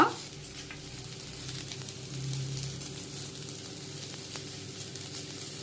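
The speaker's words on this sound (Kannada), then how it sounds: "ಗಸಗಸೆ, ಕಡಲೆ, ತೆಂಗಿನಕಾಯಿ ತುರಿ ಫ್ರೈ ಮಾಡಿ ಚೆನ್ನಾಗಿ" Cashews, whole spices, poppy seeds, chickpeas and grated coconut fry quietly in a pan for mutton gravy, giving a soft steady sizzle with faint stirring taps, close but low in level, no voices.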